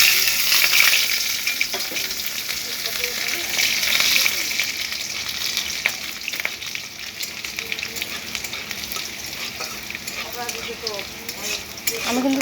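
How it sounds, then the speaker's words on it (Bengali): Chopped green chillies and a torn bay leaf fry crisp in an oil-filled pan. A loud, continuous sizzle runs under occasional stirring scrapes, close up and alone. "এগুলো আমি শুকনো লঙ্কার মতন করে কড়কড়া করে ভেজে নেব।"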